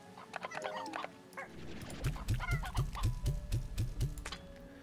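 Chickens cluck in the video game Slime Rancher 2, first scattered bird chatter, then a quick rhythmic series of about ten low clucks, close and fairly loud with no talk.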